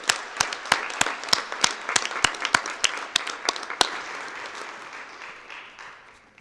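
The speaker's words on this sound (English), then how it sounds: "So let's give him another round of applause." Applause breaks out at a city council meeting: a series of sharp, evenly paced single claps stands out at first, then blends into a softer, fading wash of clapping from the room.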